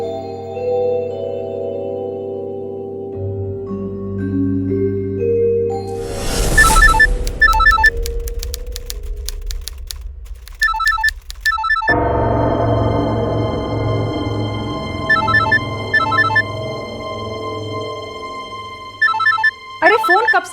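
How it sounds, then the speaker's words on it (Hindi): A telephone rings repeatedly in a home in a Hindi TV crime drama, its bright electronic tone repeating in short bursts over background music. "अरे फोन कब से बजे जा रहा है, उठा तो लो।"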